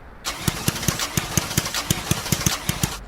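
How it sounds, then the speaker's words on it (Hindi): An old, beat-up car engine idles roughly with a steady, evenly spaced chugging pulse, close and loud, with no voices. "खटारा गाड़ी।"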